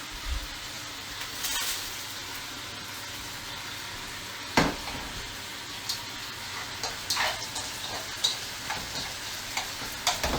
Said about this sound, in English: got the wok going. I add my mushrooms.